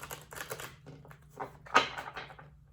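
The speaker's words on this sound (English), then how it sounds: "I'm gonna give it a shuffle, quick one" Rapid papery riffling and soft slapping of tarot cards being shuffled, in short bursts close up, with a sharper snap near the end.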